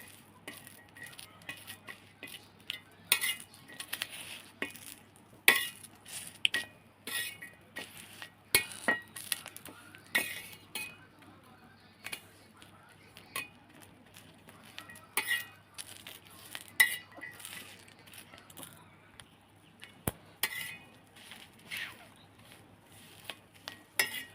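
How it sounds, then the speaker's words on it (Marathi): Garlic roasting in a pan for green chili thecha, marked by sparse, light clinks and scrapes of a spoon against the pan at close range, fairly quiet, with a faint sizzle and hum underneath. "लसण पण टाकून घेते हे एवढे लसूण आहे त्याच्यामध्ये टाकून घेते मस्त भाजून घेते"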